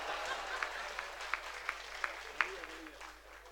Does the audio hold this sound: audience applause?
yes